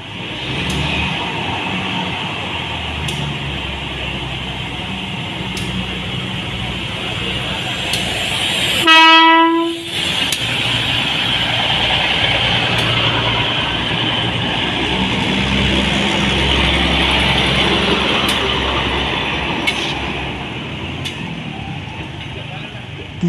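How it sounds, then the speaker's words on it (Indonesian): A repaired KERIS diesel railcar makes test runs back and forth on track in front of the Balai Yasa Yogyakarta workshop. A steady rolling rumble carries throughout, broken once midway by a loud, clear horn blast. "KRD akan dijalankan di jalur rel untuk memastikan kinerjanya dalam kondisi operasional sebenarnya"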